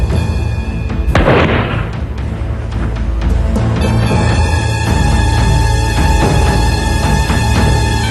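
A Bullanggi breech-loading cannon fires with one heavy boom and a sharp crack, followed by a rolling rumble and a lingering ring amid a thick background of dramatic music.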